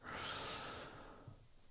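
A long, steady exhale through the mouth during a guided meditation, a soft airy breath that swells quickly, holds for about a second, then trails off quietly, close to the microphone with no talking.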